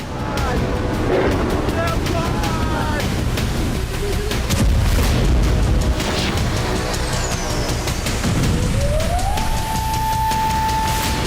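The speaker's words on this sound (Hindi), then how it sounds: "रूस के विस्फोट से कीव लगातार 6 घंटों तक दहलता रहा" Explosions in Kyiv during a Russian attack: a deep boom rises out of constant heavy rumbling, and a siren-like tone climbs and holds near the end.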